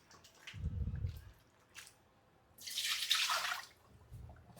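Dried anchovies being rinsed in water by hand for a Goa-style karuvadu curry, with sloshing splashes and drips that come in a few separate bursts, close and moderately loud, with no talking.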